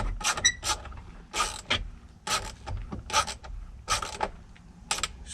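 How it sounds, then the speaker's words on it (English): A 10 mm wrench tightens the tow mirror bolts on a 2005 Chevy Tahoe, producing a series of short ratcheting creaks and clicks in irregular bursts, close and moderately quiet, with no speech. "Now I'm gonna take my 10 millimeter and go ahead and tighten it back up."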